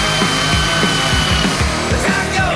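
A power drill bores a hole in a guard to mount an aerial, giving a loud, steady mechanical whir with a rhythmic grinding pulse, close and alone.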